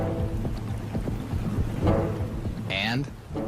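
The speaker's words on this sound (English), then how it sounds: "During our ascent, a storm blows in." A storm blowing in over Yellowstone brings steady rain noise and a deep low rumble of thunder, with a brief vocal sound near the end.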